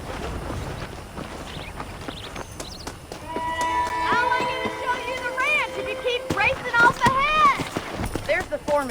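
Horse hooves clip-clop in the video game Red Dead Redemption as saddled horses move about, a run of hoofbeats that grows busier and louder partway through, mixed with tonal game music and voices.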